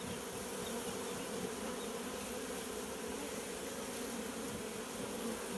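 A dense swarm of honeybees in a nucleus hive buzzes steadily and continuously, close and loud, with no pauses.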